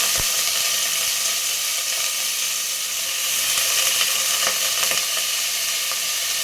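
Moong dal and rice sizzle as they fry in a pan for pongal, with a steady loud crackling hiss and occasional faint stirring clinks, heard alone throughout.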